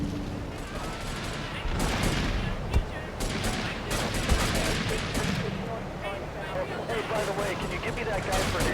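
Shotgun blasts and gunfire crackle through a chaotic firefight in GTA 3: Definitive Edition, with dense, busy action noise and a couple of sharper shot peaks throughout.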